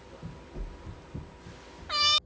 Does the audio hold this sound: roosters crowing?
no